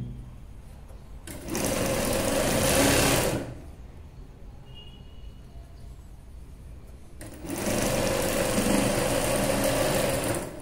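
A sewing machine stitching a boat neck dress with thread piping, running in two loud, steady bursts of whirring stitches separated by a quieter pause, close up and without speech.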